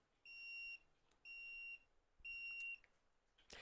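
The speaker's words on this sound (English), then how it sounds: "if we're out of range, you can hear it beeping, and it has a fast flash" A DOVOH 360 self-leveling laser level beeps when tilted out of level range: three evenly spaced electronic beeps, each about half a second long, high-pitched and clear against a quiet background.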